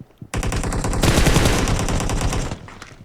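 Sustained automatic gunfire from PUBG Mobile, a dense rapid burst that starts abruptly, runs loud and unbroken for about two seconds, then cuts off into a faint tail.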